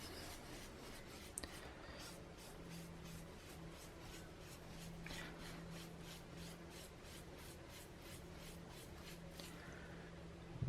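Steady, soft rubbing of laser-etched resist off aluminium for a planar tweeter/mid, a low continuous scrubbing with faint rhythmic strokes, close and quiet, no talk.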